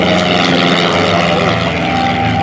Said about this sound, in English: as he flies by in that Fleet 80 Canuck